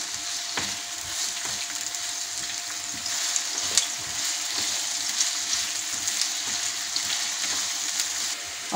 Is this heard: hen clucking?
no